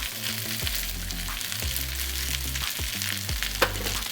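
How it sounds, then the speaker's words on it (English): Shrimp and rice stir-frying in a pan over a high flame, a constant loud sizzle broken by rhythmic scraping strokes of a spatula, close up with no voices. "We're on a high flame. So rice goes in. Before I even stir fry this up,"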